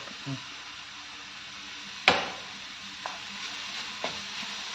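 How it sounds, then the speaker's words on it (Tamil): Curry leaves sauté in hot oil for mutter paneer, a steady sizzle broken by one sharp clatter from the pan and a couple of softer knocks. "கருவேப்பிலையும் போட்டு ஒரு 2 பரட்டிக்கலாம்"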